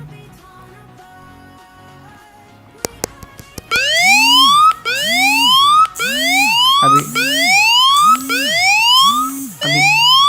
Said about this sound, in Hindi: इस अलार्म को बंद करने के लिए यहाँ पे मैं दोबारा यहाँ पे स्टॉप करूँगा